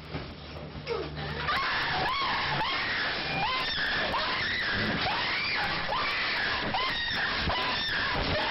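A woman screaming repeatedly during a stage 4 sleep episode, recorded in a clinical setting, with a long series of rising and falling shrieks in an irregular rhythm, loud and close, filling the whole stretch after a brief quieter start.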